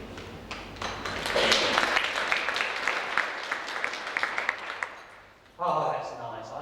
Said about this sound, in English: I always like to get a round of applause before I start.